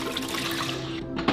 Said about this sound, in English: Simply take out the lid and pour the water in.